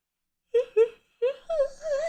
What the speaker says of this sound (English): Forget my yawn.